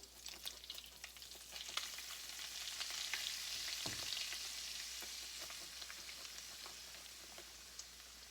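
Flour cooking in oil in a pan for a roux, the start of a Rotel gravy for meatballs and potatoes: a steady, dense crackling sizzle like light rain, close and even throughout, with a few faint scrapes and no talking.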